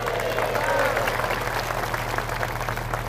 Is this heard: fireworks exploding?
no